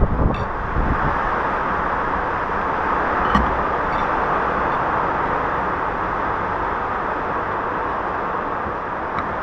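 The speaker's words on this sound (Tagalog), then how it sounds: "Ang lakas ng hangin, grabe." Strong wind roars across the microphone while riding a Gixxer 155 FI motorcycle on a breakfast ride, a loud continuous rushing buffet with a brief thump partway through and no talking.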